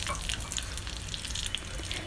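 Chopped fresh fenugreek leaves and curry leaves sizzle in hot oil as a tempering for Gujarati kadhi. The frying crackles steadily up close, with scattered small pops.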